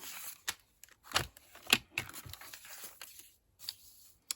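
Scissors cutting down a paper window envelope, a series of quiet crisp snips and rustling paper crinkles spaced irregularly, close and alone.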